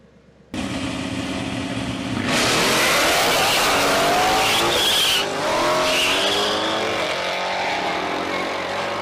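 A 2023 Ford Mustang GT Premium V8 starts up and revs hard, the engine note rising and swelling loud and close, then holding a sustained roar with rising pitch sweeps like tire squeal.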